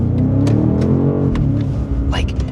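A 2025 BMW M5 pulling away hard from a standstill, its engine note rising loud and close while a person talks over it.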